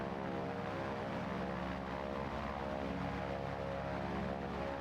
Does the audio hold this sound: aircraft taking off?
yes